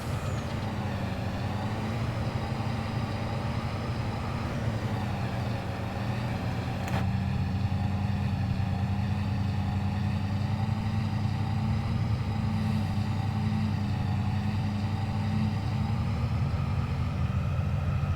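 A truck engine idles in Farming Simulator 22, a steady, loud low rumble with a constant droning hum and a brief click partway through, running evenly from start to finish.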